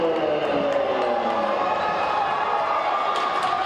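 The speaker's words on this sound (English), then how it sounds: "That brings the crowd alive here at Lynx Arena as well as that bench." Basketball arena crowd at Lynx Arena erupting after a slam dunk, a loud sustained roar of cheering with the bench joining in, steady and enveloping throughout.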